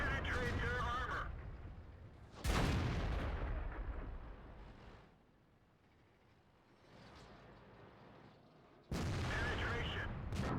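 A tank cannon fires in World of Tanks, and the E75 lets out heavy booming blasts at the start and near the end with a rumbling decay between them.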